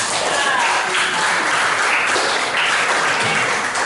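Audience applause in a classroom, a dense steady patter of many hands throughout at moderate loudness, with a faint voice underneath.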